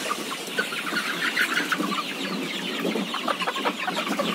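Chickens in a large coop holding about 1,400 birds cluck and chatter continuously, a dense, close flock sound without talk.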